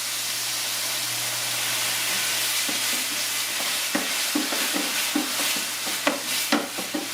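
Beef stock and Madeira sizzle and hiss loudly in a pan with steak, a steady close frying roar broken by repeated clinks and scrapes of stirring toward the end.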